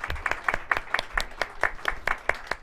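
Sparse applause from a small audience at a public meeting, a dozen or so distinct, fairly close hand claps in an uneven rhythm with a thin murmur underneath.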